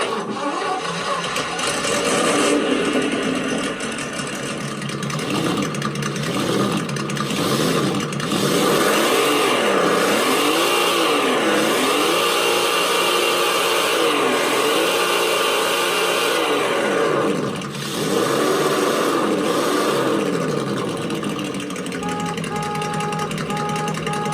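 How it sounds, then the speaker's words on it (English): A simulated truck engine from a small speaker in a Tamiya Konghead 6WD RC truck starts up, idles and revs in repeated wavering swells, loud and close, ending with faint electronic beeps. "The engine noise unit here, you hear me fire it up."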